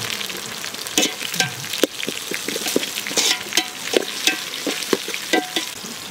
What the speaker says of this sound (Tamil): வெங்காயம் நல்லா வந்து பொன்னிறமா வதங்கிருச்சு.